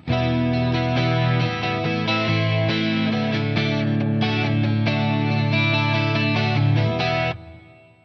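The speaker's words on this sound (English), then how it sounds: "Here is just the middle pickup, which nobody really uses. So, middle position." Electric guitar on the middle pickup through a chorus-style effect, a steady run of strummed chords and notes, fairly bright, ending with a short ring-out.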